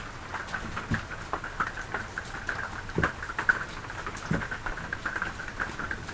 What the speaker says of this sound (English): You can obviously hear the rain on the tin roof.